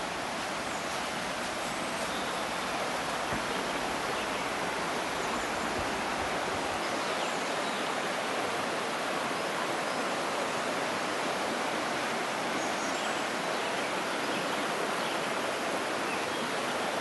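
Water flows steadily in a clear mountain creek near a quartzite quarry, a loud, unbroken rushing wash with no voices over it.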